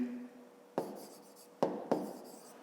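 Pen or pencil writing numbers during a fifth-grade math exercise, heard as three close, distinct scratching strokes on paper, quiet and alone after a faint voice at the start.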